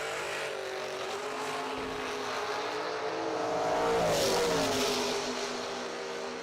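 Drag race cars launching at a summer drag racing event, a distant broad engine roar that swells and fades as they run down the track; no talking.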